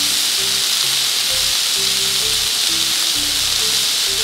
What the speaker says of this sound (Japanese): 転がしながら焼いていきますね